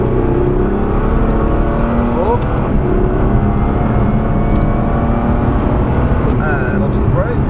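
A race car in the video game Gran Turismo 5 accelerating out of a left-hand corner, its engine droning steadily and rising under constant close driving instruction from someone talking over it.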